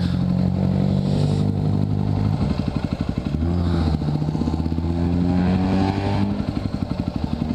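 A WR dirt bike engine is ridden nearby, with a loud, steady, throbbing drone that rises and falls in pitch as the throttle changes, plus some clatter and no talk.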